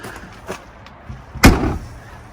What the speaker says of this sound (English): these doors are thick. They are winterized doors. They are slam proof